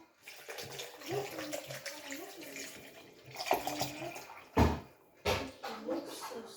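Spring water pours and splashes into a container in uneven bursts, with a few knocks and soft handling noises between pours.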